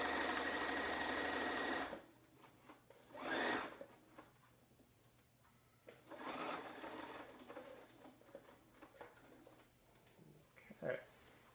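Sewing machine stitching a curved quilt seam through teal fabric strips, running in short bursts of rapid ticking separated by pauses, fairly faint and close, with no talking.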